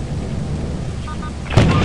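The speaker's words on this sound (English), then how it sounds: "It was a lightning strike" Lightning strike and thunder in a tense multiplayer video game: a steady rumbling storm-like wash that ends in a sudden loud crack and burst of noise near the end, with no talk.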